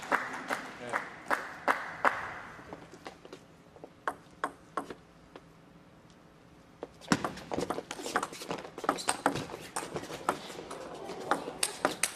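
Spectators at a table tennis match between Australia and China break into bursts of applause and clapping, starting with scattered sharp paddle-ball ticks and rising to a fuller round of clapping near the end.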